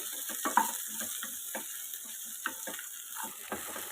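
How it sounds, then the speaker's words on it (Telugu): Garlic and cumin frying in a kadai for tomato-sesame chutney, a soft steady sizzle with occasional light scrapes and taps of a stirring spoon, faint and close, with no voices. "ఒక 2 నిమిషాలు వేయించుకుంటే సరిపోతుంది"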